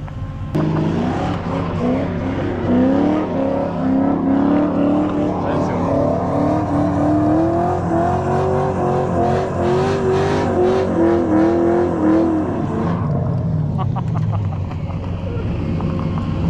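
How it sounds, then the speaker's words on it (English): A drift car's engine roars continuously at high revs during a burnout, with sustained loud droning and rising and falling pitch, then a drop toward the end, while people talk nearby. "Can I get a few shots of you doing a burnout?"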